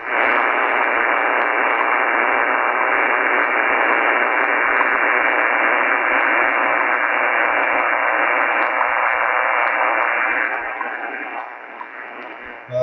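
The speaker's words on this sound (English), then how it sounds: "Now I'm hearing WWV." Shortwave radio tuned to the WWV time signal station at 10 MHz, heard as a steady, loud wash of hiss and static with faint tones buried in it, easing off slightly near the end.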